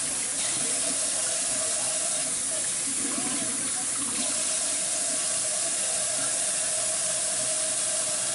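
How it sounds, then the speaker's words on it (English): Tap water runs steadily from a kitchen faucet as food is rinsed under it, a loud continuous hiss and splash with faint sounds of handling, no speech. "So we're gonna kind of rinse them off a little bit."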